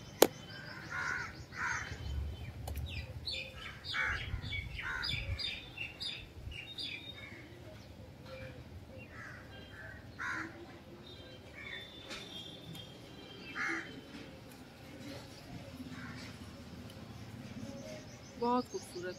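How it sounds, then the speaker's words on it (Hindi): Various birds visiting a kitchen garden to drink water, with crow-like caws and scattered high chirps repeating through the clip at moderate distance. A steady low background rumble runs underneath. "तरह तरह की चिड़िया आ गई है हमारे यहाँ पानी पीने के लिए"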